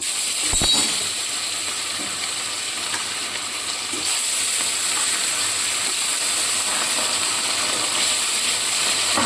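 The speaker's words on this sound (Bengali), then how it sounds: "এবার মাছগুলোকে ভেজে নিচ্ছি আমি" Rohu fish pieces, rubbed with salt and turmeric, frying in hot oil with a steady, dense sizzle and hiss throughout, plus a brief clatter near the start.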